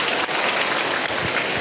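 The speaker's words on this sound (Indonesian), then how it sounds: "Tepuk tangan untuk Talib." Applause for a student named Talib at an Islamic boarding school gathering, a steady dense patter of many hands clapping throughout, fairly loud and continuous.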